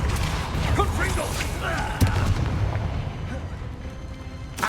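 Rapid Confringo and Bombarda spell blasts in Hogwarts Legacy combat: a run of booming explosions and sharp cracks over a continuous rumble, with a loud hit near two seconds, mixed with voices shouting during the fight.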